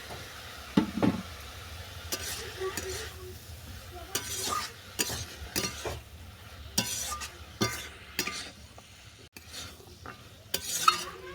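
Bathua greens and eggplant turned in a frying pan, with repeated scraping and clacking strokes of a spatula over a quiet sizzle, close and irregular, with no talking.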